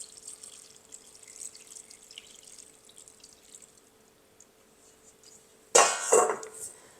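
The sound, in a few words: pouring second milk into curry pot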